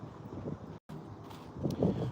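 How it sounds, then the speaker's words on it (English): Gusty wind buffets the microphone in low rumbling bursts, with a brief dropout partway through and louder gusts toward the end. "It's windy today, but the past couple days have been extremely windy."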